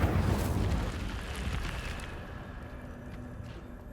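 A fiery Incendio spell cast in Hogwarts Legacy, with a loud whooshing, rumbling burst of flame at the start that rolls on and slowly fades.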